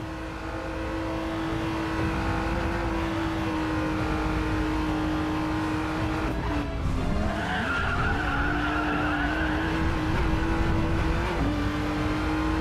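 A Maserati MC20 in the Racing Master game accelerates with a loud, sustained engine drone whose pitch wavers and climbs midway, with tire skid noise layered over it and no speech.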